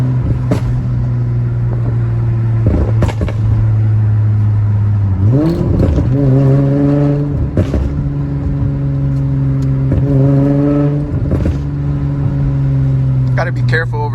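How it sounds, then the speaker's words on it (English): An Infiniti G35 with full bolt-ons droning and revving in fourth gear, a loud, close engine hum that climbs in pitch midway, with a few sharp exhaust pops and a voice talking over it. "Let's see the pops in fourth gear."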